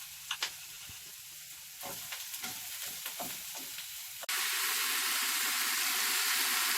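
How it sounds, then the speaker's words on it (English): Onions, mushrooms and carrots sizzle and crackle in a hot pan, with a few stirring clatters early on, then a steady, louder frying hiss takes over. "I do love the sound of food frying."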